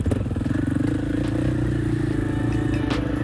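An ATV engine revs steadily with its tires spinning on wet, muddy ground, a loud continuous drone with rattly clatter close by and no talk.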